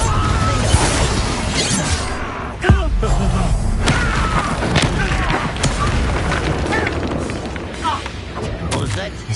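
Booming fire-spell explosions from the Hogwarts Legacy video game, loud and dense with crashing, shattering bursts, including a sharp hit near three seconds, layered over continuous game sound effects.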